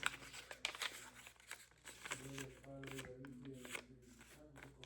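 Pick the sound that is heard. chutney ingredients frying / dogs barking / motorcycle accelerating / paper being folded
paper being folded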